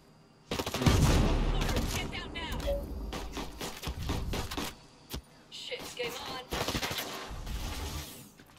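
Bursts of ranged-rifle gunfire in the shooter game Ghost Recon Breakpoint, sharp clustered volleys of shots coming in irregular groups, with a voice talking over the action.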